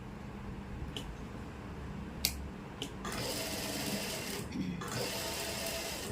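A sewing machine stitches pleats on an anarkali dress, starting after a few faint clicks and then whirring steadily and close for several seconds with a brief pause.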